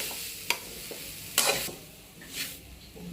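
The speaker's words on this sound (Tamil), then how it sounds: "துருவி வச்ச தேங்காயை வெறும் வடசட்டியில் போட்டு நல்லா வறுத்து எடுத்துக்கலாம்." Grated coconut being dry-roasted in an empty pan for a traditional Tamil sweet, with soft intermittent scraping and stirring scuffs and faint sizzle, quiet and close with no talking.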